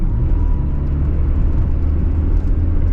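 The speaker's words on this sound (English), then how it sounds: "I can hear the engine" A Nissan Bluebird car engine hums steadily while driving, a continuous low rumble with road whir, fairly loud and close with no voices.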